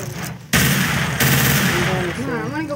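Gunfire in the video game Garry's Mod: a loud, continuous stream of rapid automatic shots with one abrupt jump in intensity, and a voice speaking over the end.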